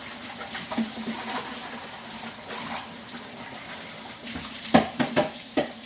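A kitchen faucet runs steadily into a sink while smoked turkey necks are rinsed. The close, continuous gush of water ends in a few sharp clunks and splashes.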